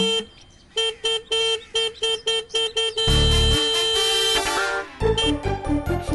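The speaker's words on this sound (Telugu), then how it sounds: "ఎందుకయ్యా నా ఇంటి గేటు ముందు నీ ఆటో ఆపావు? ఆపితే ఆపావు, అంత గట్టిగా హార్న్ కొడతావు ఎందుకు?" An auto rickshaw horn honks loudly at a house gate in a rapid series of short toots, followed by one long sustained blast and a final burst of repeated beeps.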